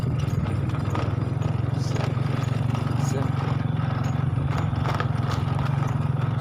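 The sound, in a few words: horse hooves clip-clopping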